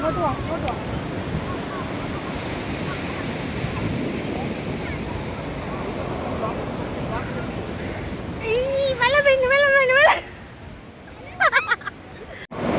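Waves at Payyambalam beach wash in a continuous broadband roar with wind buffeting the microphone, while people chatter nearby and a voice rises above the surf late on.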